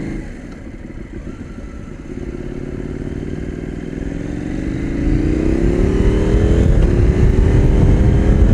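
KTM Duke motorcycle running in sixth gear above 4000 rpm, a steady droning engine note with road and wind rumble that rises slightly in pitch and loudness as it pulls.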